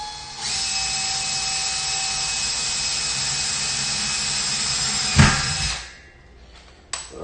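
A power drill bores two holes into a wall with a loud, steady high-pitched whine that holds for about five seconds, then winds down, followed by a brief second burst.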